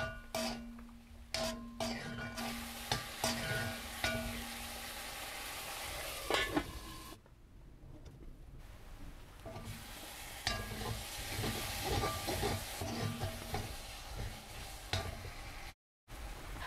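Chopped tomatoes with a little salt fry in a pan, a steady sizzle broken by stirring scrapes and clatter, with a brief silent gap near the end.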